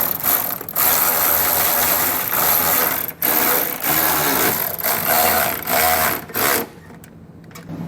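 A ratcheting wrench with a 17mm socket runs in steady bursts, snugging the bolts of an EcoHitch hidden trailer hitch receiver on a 2020 Honda, the mechanical clicking loud, close and continuous with brief pauses and no talking.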